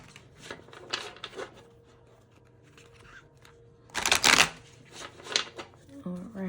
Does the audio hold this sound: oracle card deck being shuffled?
yes